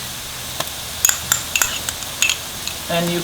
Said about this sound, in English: fry the ginger garlic paste in there for at least a couple of minutes till the rawness of the ginger garlic goes